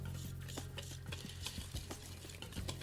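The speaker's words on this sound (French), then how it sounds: "Faut bien mélanger." Financier batter being stirred in a bowl with a utensil, giving steady scraping and tapping strokes against the bowl, close and continuous with no talk.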